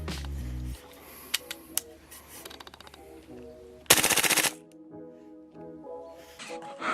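A Tokyo Marui MTR16 gas blowback airsoft rifle fires 0.25 g BBs in a few sharp single shots, then a loud rapid burst, with mechanical clicks and quiet handling in between.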